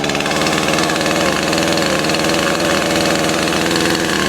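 Husqvarna chainsaw cold-started and running at high idle, a close, loud, steady two-stroke engine rattle with a fast even pulse throughout.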